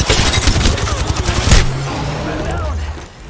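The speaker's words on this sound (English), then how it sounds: "Opening fire." Rapid bursts of gunfire in the battle game Apex Legends, dense repeated shots for the first second and a half with a heavy boom, then a quieter tail, with voices calling out over the fighting.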